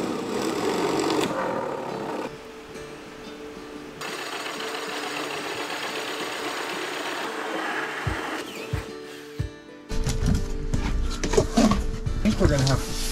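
A drill boring a pilot hole, then a 3.5-inch hole cut through a house wall for a Mr. Cool mini-split install, heard as close motor whine and grinding in several bursts and stops, with voices talking over it.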